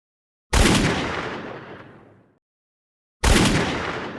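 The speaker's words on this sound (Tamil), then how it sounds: "முயல் துப்பாக்கியை எடுத்து வந்து நரியை பார்த்து சுட்டது." Two loud gunshots a few seconds apart, each a sharp bang followed by a long, fading rumble of echo.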